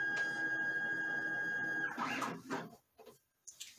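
A GCC Expert II LX vinyl cutter feeds out vinyl with a steady mechanical whirring and a thin tonal whine, then stops, followed by a few brief clunks and rustles close by.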